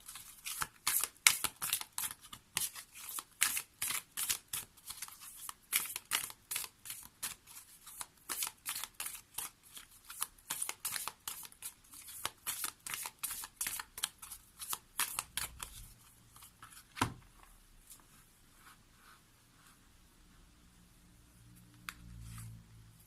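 Oracle cards being shuffled by hand, a long run of quick crisp riffling flutters in steady rhythm, close and fairly quiet, slowing to a few soft slides and rustles near the end.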